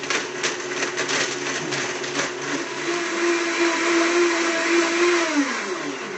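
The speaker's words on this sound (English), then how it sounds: "this is going to get real loud for a little bit. Go ahead and blend that up." A Blendtec blender blending almonds roars loudly at close range, its motor grinding and whining steadily as the pitch shifts while the nuts break down.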